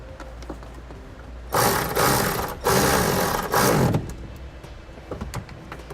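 A bolt being tightened during a Curt T-connector wiring harness install on a 2018 Toyota: two loud bursts of rapid ratcheting about a second each, close up, amid quiet surroundings.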